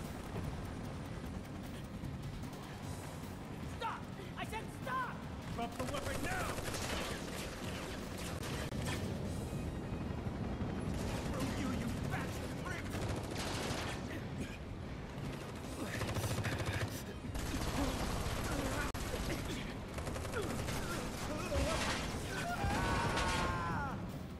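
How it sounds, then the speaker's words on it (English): Barret's machine gun in Final Fantasy VII Remake rattles in dense bursts amid mechanical clanks and game effects, loud and sustained across the stretch with brief gaps, no clear speech. "Barret's back! He's got that machine gun thing."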